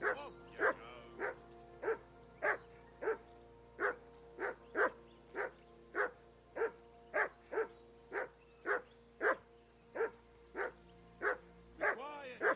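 A dog in Kingdom Come: Deliverance II barks about twenty times in a steady, evenly spaced run of sharp, loud barks, with a low hum underneath.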